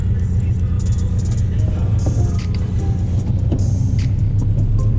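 A stock Honda Civic engine idles steadily inside a garage, a loud, continuous low rumble with faint higher clicks and hiss on top.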